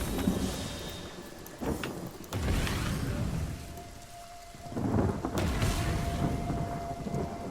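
Heavy rain pours steadily in the Divinity: Original Sin video game, broken by several loud rolling thunder claps that swell and fade, with no talking.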